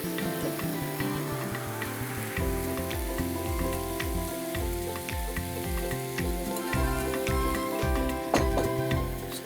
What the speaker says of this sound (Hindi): सो अब हम इसके ऊपर ये अंडे वाला मिक्सचर डाल देंगे.